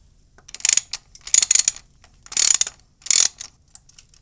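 Four bursts of rapid ratchet clicking from a wrench loosening a bolt on a first-generation Suzuki SV650 motorcycle during a spark plug change. The clicks come in close, crisp clusters separated by short pauses.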